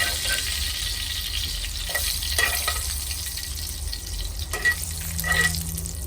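Butter hits a hot pan after a steak and sizzles loudly and continuously up close, a dense hiss with a few scraping stirs and no talking over it.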